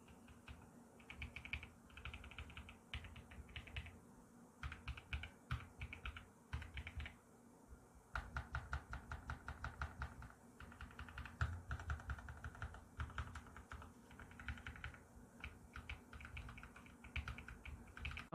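Typing on an EPOMAKER EK21 gasket-mount number pad fitted with pink Flamingo linear switches gives a steady stream of quiet, close keystrokes in uneven bursts with brief pauses, soft clicky taps and no voices.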